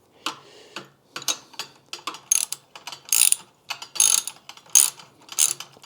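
A hand ratchet on a long extension and swivel tightens motorcycle header nuts on a Honda CBR/VFR 800 hybrid build, a close, crisp series of clicking bursts in uneven back-and-forth strokes, with no talking.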